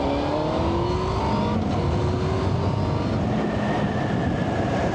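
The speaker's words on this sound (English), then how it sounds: "You can hear the road up through the fairing there" Continuous road and engine roar from a Yamaha Fazer motorcycle at speed, heard from the rider's seat with noise coming up through the fairing, loud and steady with faint tonal whine drifting in pitch.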